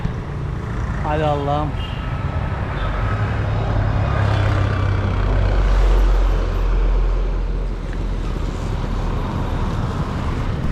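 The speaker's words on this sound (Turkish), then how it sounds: "Ha bir tane araba geliyor." On a roadside in Sri Lanka, a car approaches, its low engine and tyre rumble swelling in the middle and then easing off, under a loud nearby voice and outdoor ambience.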